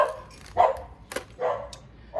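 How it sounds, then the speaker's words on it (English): Dog barking indoors, three sharp barks spaced about a second apart, close and fairly loud, with no talking. "Forgive my dog."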